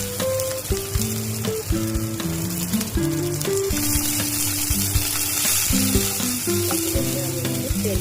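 Ginger and green chillies stirred in hot oil with cashews and raisins for a Bengali matar paneer; a steady sizzle and occasional scraping sit beneath continuous background music throughout.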